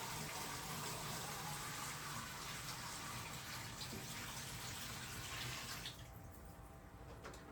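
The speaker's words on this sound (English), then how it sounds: "rest it gently on the corner of my sink and slowly pour it out" Salon quat disinfectant solution pours steadily into a sink with a continuous splashing rush, then tapers off near the end.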